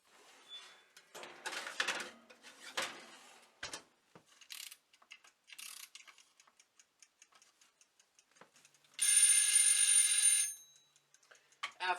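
An oven timer goes off during cookie baking, a short burst of bright electronic beeping lasting about a second and a half, after scattered ticks, clicks and kitchen handling sounds.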